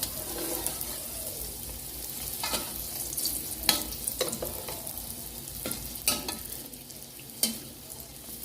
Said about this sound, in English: So while it's frying